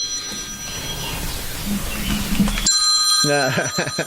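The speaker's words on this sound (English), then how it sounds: "And then the phone rang." A loud telephone bell rings in repeated bursts, preceded by people talking over background noise.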